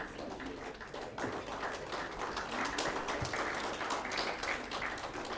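Audience applause at an awards ceremony in India, a broad steady wash of clapping that swells after the first second and holds at moderate loudness throughout.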